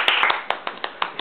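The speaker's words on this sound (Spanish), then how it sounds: "Un fuerte aplauso." A brief burst of applause from a small group, a few sharp, distinct hand claps at irregular intervals, close and fairly loud.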